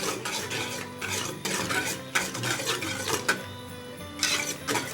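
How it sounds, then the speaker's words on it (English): Heavy cream, vanilla and cinnamon powder whisked together in a cooking pot, with close, steady scraping and clinking strokes of the whisk against the metal that repeat in an uneven rhythm, with no talking. "So you're gonna whisk them together."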